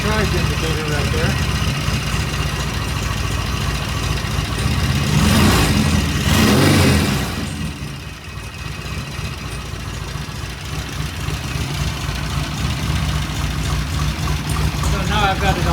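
A motorcycle engine runs steadily after its first start following a rebuild, loud and close with a continuous idle rumble, briefly rising around the middle before settling back to an even idle.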